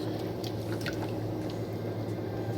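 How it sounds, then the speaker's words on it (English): Water and butter added to a pan of seasoned vegetables, giving a steady liquid drip and gentle sizzle over a constant low kitchen hum, with no talking. "Now we're just gonna add a little bit of water and add some butter"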